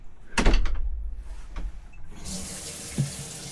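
In a motorhome, a tap fed by a newly installed water pump opens after a couple of dull knocks, then water runs in a steady, fairly quiet hiss into the sink with no talking.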